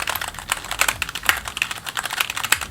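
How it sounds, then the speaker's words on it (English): Rapid, clicky keystrokes on an NPET K11 wireless keyboard, close up, with an irregular typing rhythm and sharp bright clacks. "You guys can hear the keyboard, it sounds pretty clicky."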